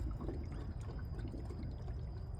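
Water pours from a faucet on a rain-water IBC tote, pushed out by pump pressure, making a steady low splashing gush nearby with no talk.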